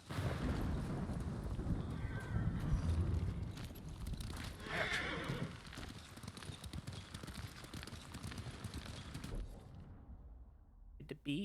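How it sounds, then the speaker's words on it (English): A horse in the video game Ghost of Tsushima whinnies and its hooves clop along, with someone talking over it, fairly quiet and steady before the sound drops away near the end. "You know what? Nah, I'm taking this horse."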